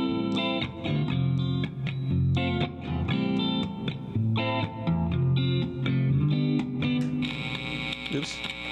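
Clean electric guitar notes ring out with a shimmering, washy reverb, picked phrases layering into a looping pattern.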